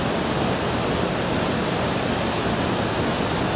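A waterfall pours over a basalt plateau and cedar-lined rock in a constant, full rushing roar, steady and close, with no voices heard.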